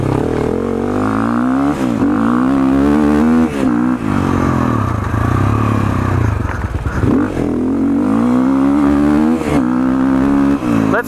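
A Sherco 450 SCF Factory cross-country motorcycle revs and accelerates in first gear close by, its engine note rising and dropping in repeated surges with brief pauses between pulls.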